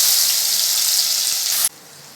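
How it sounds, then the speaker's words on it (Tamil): Onion and garlic paste hisses loudly and steadily in a pan, a bright close-up sizzle that cuts off abruptly near the end to a faint background hush. "வெங்காயம் பூண்டோட பச்சை வாசனை போகிற வரைக்கும் ஒரு 8 நிமிஷம் இதை அப்படியே வதக்கி விட்டுடலாம்"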